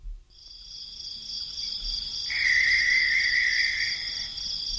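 Crickets chirp in a steady, high, unbroken trill, with a second nearer insect joining partway through, no voices.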